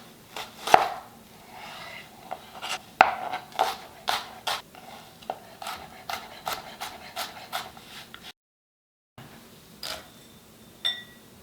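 A kitchen knife slicing and chopping an onion on a cutting board, a steady series of crisp, close taps spaced about half a second apart, with a short pause and then a few more cuts.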